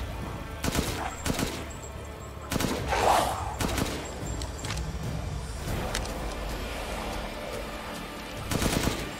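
Gunfire in the video game Resident Evil Village, with several sharp loud shots and bursts spread over the clip against a steady rumbling game background and no speech.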